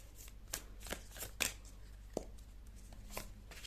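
Tarot cards being shuffled by hand, a series of soft papery riffles and slaps in an irregular rhythm, close and fairly quiet with no talking.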